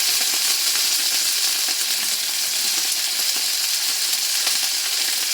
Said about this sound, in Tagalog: Kung piniprito pa nga lang, kumabangan na eh